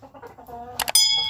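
Free-range village chickens on a farm clucking in short repeated calls, close by, ending in a sharper burst of clucks and a higher bright tone near the end.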